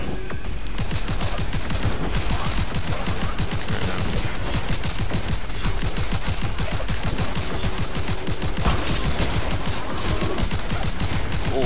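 Rapid pistol gunfire in the rogue-like shooter game Seraph, a dense stream of sharp repeated shots running the whole time, loud and close, with layered game effects and no talk.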